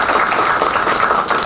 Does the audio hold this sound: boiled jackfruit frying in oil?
no